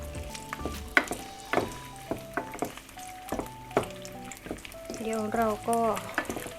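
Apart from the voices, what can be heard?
chicken sausage frying in hot pan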